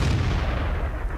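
Tank cannon fire in the World of Tanks video game, heard as a loud, close boom with a dense low-frequency body that fills the whole short moment on its own, with no talk over it.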